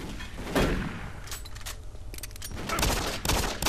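Pistol shots and combat noise from the Doom 3 video game: loud, dense bursts of gunfire with broadband crashes recurring through the clip, no talking.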